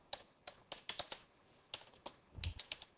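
Irregular keystrokes on a computer keyboard, a dozen or so taps in uneven bursts with brief pauses, close and fairly quiet with no talking.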